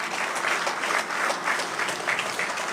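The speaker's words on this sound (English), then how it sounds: "Please give him a round of applause." Audience applause at a funeral service, a steady dense wash of clapping hands that fills the space without a break and without audible voices.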